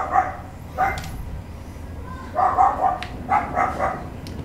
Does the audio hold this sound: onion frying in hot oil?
no